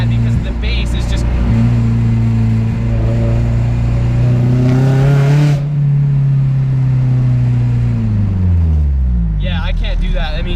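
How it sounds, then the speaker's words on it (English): A modified, slammed and boosted Mazda Miata drift car with a loud exhaust, its engine droning steadily before the pitch sweeps down as it decelerates, booming and close throughout. "when the car decelerates, it just gets so goddamn loud"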